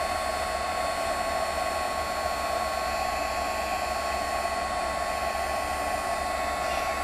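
A heat tool blows without a break as it melts embossing powder on paper for a card-stamping craft. The loud, even whir of the fan and motor holds for several seconds, close up, with no talking.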